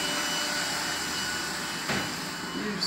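A window-cleaning device, a vacuum-style cleaner for apartment loggia windows, runs with a steady close whirring hiss for about three seconds, with a brief knock near the end.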